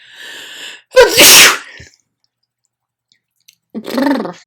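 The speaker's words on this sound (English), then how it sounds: "I need to sneeze." A single loud sneeze bursts out after a brief breathy hum, followed by silence and then a short vocal murmur.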